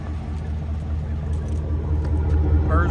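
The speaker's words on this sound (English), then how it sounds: "The vehicle idles just fine." A 2011 Chevy Silverado 2500HD idles, heard from close by at the exhaust: a steady, low, even rumble holding level for a few seconds with faint light clinking over it.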